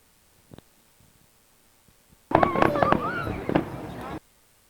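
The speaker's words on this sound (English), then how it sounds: "we could watch the spectacular 4th of July fireworks" A burst of crackling Fourth of July fireworks in Ripley, Ohio, in 2006, popping and banging for about two seconds, with faint crowd voices mixed in, then abruptly stopping.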